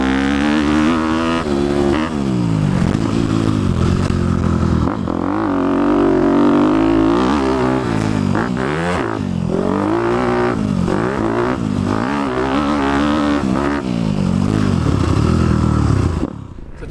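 A 2018 Honda CRF250 big bore dirt bike is ridden hard, its engine loud and close, revving up and dropping off repeatedly through gear changes, with rattling and clatter and no talking.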